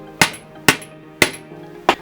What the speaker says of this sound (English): Line the comb peg into the hole and hammer it in place